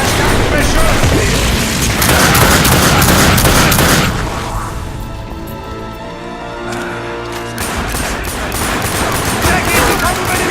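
Heavy gunfire from The Darkness 2 game: loud, dense bursts of shots and booms fill the first four seconds, ease into quieter, sparser firing, then build again toward the end, with German voices speaking over it.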